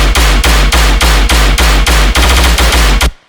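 Loud dubstep sub bass hard-clipped by the GClip plugin at 3 dB for extra thickness, pulsing in steady heavy hits for about three seconds before cutting off abruptly.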